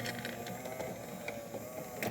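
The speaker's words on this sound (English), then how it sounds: "Excellent flow coming out of the machine," A Jura Impressa Z7 espresso machine brewing a ristretto gives a steady mechanical hum and whir with faint dripping and a few clicks, close and even throughout.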